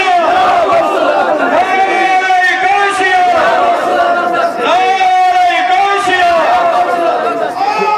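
A large crowd at a religious sermon gathering in Bugam, Chadoora, chanting a devotional slogan in loud unison, voices swelling and falling in long sustained waves across the whole stretch.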